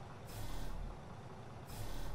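A heavy vehicle horn in the off-road driving game SnowRunner, sounded in two loud, steady blasts with a short gap between them, the second one cut off at the end.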